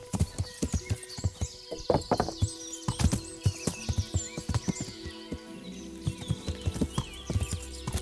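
Horse hooves clip-clop steadily in the video game Kingdom Come: Deliverance. The clear, close hoofbeats fall in an uneven rhythm with a few sharper knocks.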